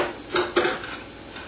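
A metal utensil clinks twice against a hot pan as a teaspoon of fresh chopped garlic goes in and is stirred, with the two sharp knocks close and brief over a quiet background.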